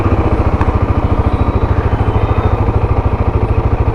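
A Royal Enfield Guerrilla 450 motorcycle engine idles with a steady, loud, evenly pulsing thump, close by and alone.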